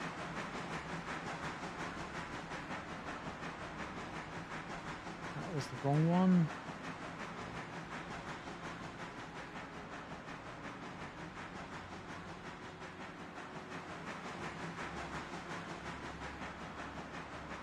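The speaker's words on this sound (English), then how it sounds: "kind of wonder if I can do a trick at the switch and get this engine behind that train." A steam train engine rolls along the rails near a switch, giving a steady, broad hiss and rumble. A short rising whistle-like tone cuts through midway, and a voice speaks briefly.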